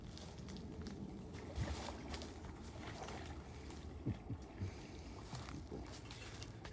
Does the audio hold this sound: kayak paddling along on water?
yes